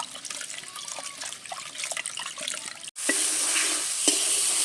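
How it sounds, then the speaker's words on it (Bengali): A spice masala with a little sugar is stirred and fried in a pan for a sour keora hilsa fish curry, with scattered scraping stirs, then a steadier sizzle after a brief break, and no talking. "মশলাটা নেড়ে চেড়ে একটু কষে নিয়েছি।"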